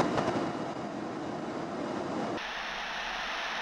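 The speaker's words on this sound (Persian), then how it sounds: "صدای موتوری که از زمین انعکاس میخوره و به گوش ما میرسه" A broad, steady flight simulator aircraft engine roar reflected off the ground rumbles continuously, then abruptly shifts to a thinner, quieter tone partway through.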